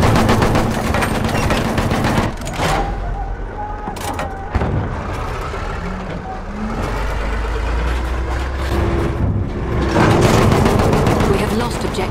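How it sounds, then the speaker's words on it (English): Enemy machine gun fire in Battlefield 1 multiplayer rattles in long sustained bursts, loud and close, with scattered gunshots and rumbling battlefield noise, and game voices heard faintly over the din. "Machine gun, one of theirs."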